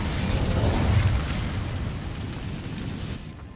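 A fiery magical burst from the Incendio spell in Hogwarts Legacy gives a roaring, crackling whoosh that swells and then fades away over a few seconds.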